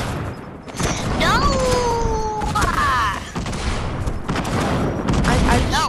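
Destruction of a house in the video game Fortnite, heard as a loud, continuous stretch of crashing, gunfire-like bursts and game effects with sweeping electronic tones, while players talk over it.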